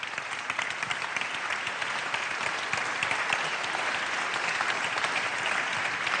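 An audience at a French national awards ceremony applauds a Senate vice-president. The clapping is full and even, fills a large hall and holds at a steady level throughout with no talk over it.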